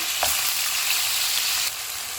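Marinated beef frying in hot oil, a steady close sizzle that spikes briefly as the meat goes in, then drops slightly near the end.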